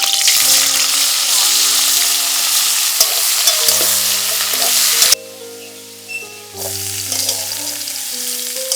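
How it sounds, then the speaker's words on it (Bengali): Cauliflower florets and potato pieces fry in hot oil with a steady, close sizzle and occasional stirring scrapes, dropping briefly quieter midway before the crackle resumes, with music playing underneath. "ফুলকপি আলুটা তেল হয়ে গেছে, এবার এগুলো আমি এতে ছেড়ে দেবো, ভেজে নেব।"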